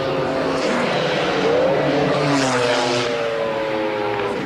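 GT race cars finishing a 1995 BPR Global GT Series round at Donington, including the Harrods McLaren: a loud, continuous roar of engines with shifting pitch and no pauses.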